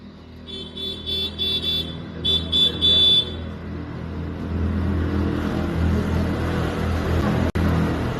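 Cars pass along a hill road near Lamahatta. An engine rumble swells and lingers after a brief high, tooting tone, with no talk over it.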